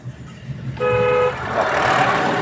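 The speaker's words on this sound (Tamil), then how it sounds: "ஹாரன் ஒரு முறை" A car horn on a moving car gives one short, steady, fairly loud toot, with low engine and road noise running underneath before and after.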